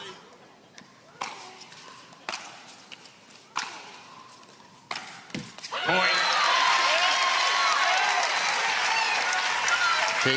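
A crowd at a professional team tennis match between Chicago Slice and St. Louis Shock bursts into loud, sustained applause and cheering. Several sharp racket-and-ball strikes echo through the quieter arena just before it.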